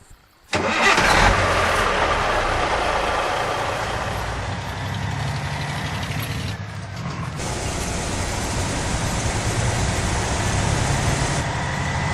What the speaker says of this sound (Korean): 시동아 걸려라 부릉부릉부릉 부르르르릉